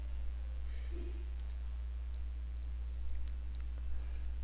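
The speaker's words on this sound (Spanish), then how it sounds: "Simplemente doy clic fuera de la imagen." A computer mouse clicks several times in quick, sparse succession, light and close, over a steady low electrical hum.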